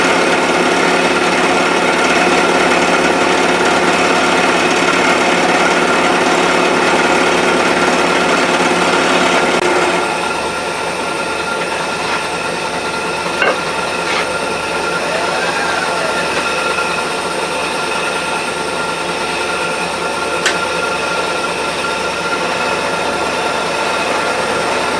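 Steel Dickson tool holder block being milled in a vise, a loud steady machine whine and cutting drone for about ten seconds that drops to a quieter running hum, with a couple of brief ticks.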